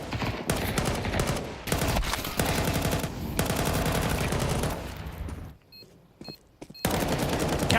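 Rapid automatic gunfire rattles through a Counter-Strike match, loud dense bursts nearly continuous with a short lull before the shooting resumes.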